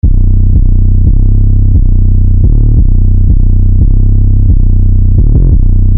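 A heavy 808 bass line from a phonk beat built in FL Studio plays alone, loud and fat, with a run of deep sustained notes that step and slide in a steady pattern.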